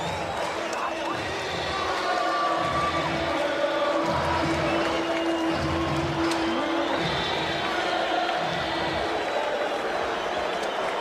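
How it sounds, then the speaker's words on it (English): Crowd noise at a baseball stadium during World Series Game 7, Boston Red Sox at New York Mets, a dense steady roar with rhythmic chanting rising through it, loud and continuous, with faint talk underneath. "Listen to this crowd and that chant."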